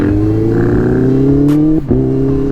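A loud Honda CBR650R motorcycle engine idles and revs close by, a steady throbbing hum that dips briefly before settling back to a constant rumble.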